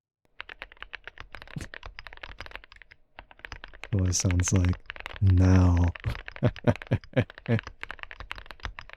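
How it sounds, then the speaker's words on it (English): Computer keyboard typing close to ASMR microphones, a dense run of crisp clicks and clacks. A voice speaks over the middle. "Keyboard recorded with the ASMR mics."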